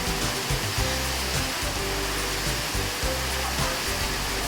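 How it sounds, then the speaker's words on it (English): Steady, dense rushing of falling water splashing into a pool, continuous and broadband with no talking. "An attractive waterfall flowed into a large pond at street level."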